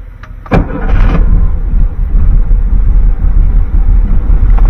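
A classic VW Beetle engine is started: a sharp click and starter burst, then the engine catches and settles into a loud, steady close-up idle.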